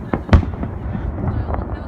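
Fourth of July fireworks burst outdoors in Telluride, a sharp near bang followed by scattered softer pops and rumbling over a steady crowd murmur.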